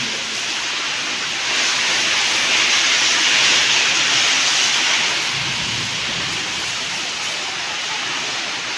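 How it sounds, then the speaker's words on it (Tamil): Heavy rain pours in a steady, dense hiss that swells slightly midway, loud and continuous with no break. "அருமையான மழை."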